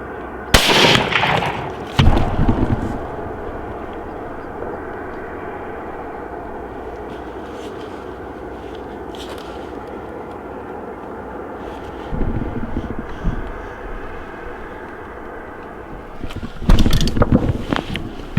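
A hunting rifle fires at a whitetail deer in Kansas at dusk: one sharp, loud blast close by near the start, followed by a few duller thumps and bumps over a low outdoor background.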